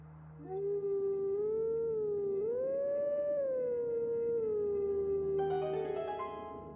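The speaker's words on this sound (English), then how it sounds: "I'll howl at the stone one more time" Link in wolf form howls at a howling stone in Twilight Princess: one long, sustained, rising-and-falling tonal howl that starts sharply and holds steady for several seconds, loud and close, with a brief airy chime layered near the end.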